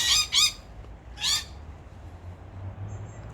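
Parrots in apple trees let out three harsh, loud squawks in quick succession: two close together, then a third a moment later. Quieter outdoor background follows, with a faint chirp near the end.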